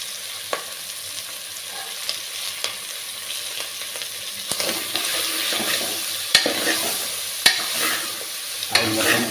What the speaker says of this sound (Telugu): ఆయిల్ మొత్తం బోటి పట్టేటట్టు కలుపుకోవాలి